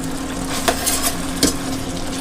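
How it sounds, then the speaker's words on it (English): Sichuan fish-fragrant eggplant tossed in sauce in a pan as it returns to a boil, a soft continuous sizzle and bubbling with two brief utensil scrapes. "And just toss it around until it comes back up to a boil and everything gets nice and hot."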